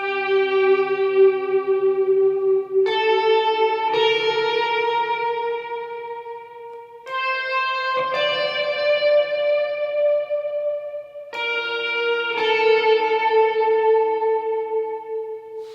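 An electric guitar plays a part from a song through effects, ringing sustained notes with echo and reverb, a few note changes over a wash of delayed repeats, clear and steady throughout with no talking.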